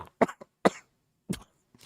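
Several short, sharp coughs from one person in a quiet room, coming in three or four separate bursts with brief silences between them.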